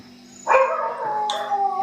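Dogs bark and let out a drawn-out howl close by, joined by a second higher howl near the end, with no voices over them.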